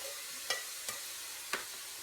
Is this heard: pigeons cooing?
no